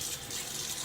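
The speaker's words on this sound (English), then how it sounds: "It's whatever comes out of the cold tap" Cold hard water runs from a tap in a steady, soft stream, faint and brief, with no talking.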